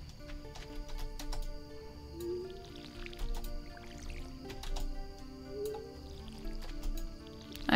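Crops are watered with a watering can in the Stardew Valley video game, with soft repeated splashing and dripping squelches over quiet background music, no talking.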